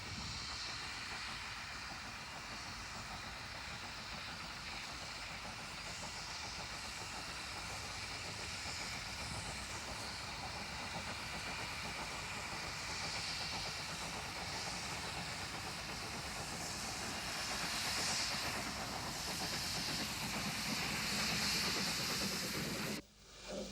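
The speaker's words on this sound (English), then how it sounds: "Fenchurch making a spirited departure from Sheffield Park at the height of the crowded summer" The steam locomotive Fenchurch makes a spirited departure from Sheffield Park at the height of a crowded summer season, a steady wash of hissing steam and rail rumble that builds slightly toward the end before cutting off abruptly.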